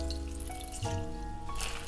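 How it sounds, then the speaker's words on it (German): Soaked gelatine sheets, twelve of them, squeezed out between bare hands, water trickling and dripping steadily at close range over a faint background hum. "Hier haben wir unsere eingeweichte Gelatine, die 12 Blätter. Die drücken wir jetzt gerade aus zwischen den Händen."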